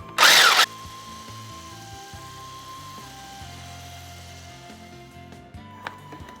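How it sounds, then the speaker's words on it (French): An electric hand mixer beats a sugar and vanilla mixture in one short, loud whirring burst, then falls quiet to faint kitchen sounds. "il faut vraiment battre ce mélange avec le batteur électrique jusqu'à ressentir que le mélange devient un peu plus épais"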